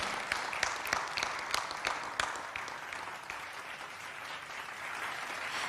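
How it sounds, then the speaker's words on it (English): Audience applause at a plenary session of a business forum, steady clapping from a hall crowd with a few sharper claps early on, gradually settling into a softer, even patter. "please give a big round of applause for INA Access Platform"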